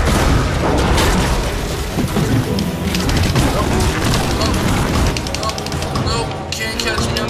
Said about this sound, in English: They've been spamming those grenades so hard.